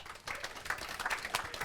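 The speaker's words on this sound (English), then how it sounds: "Big round of applause for our panel." Audience applause after a crypto and blockchain expert panel discussion, a brief burst of scattered clapping from a modest crowd, fairly faint and steady.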